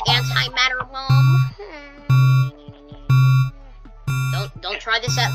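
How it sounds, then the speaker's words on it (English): A repeating alarm in the Minecraft Rival Rebels mod sounds before an antimatter bomb goes off, with loud, evenly spaced buzzing tones of roughly half a second each, alternating with a person talking between the blasts. "And there's the alarm."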